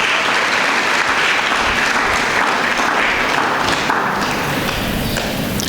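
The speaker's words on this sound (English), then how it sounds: "Can we applaud them this morning?" Dense, steady applause from a school Speech Day audience in a hall, loud and continuous with a few heavier thumps mixed into the clapping.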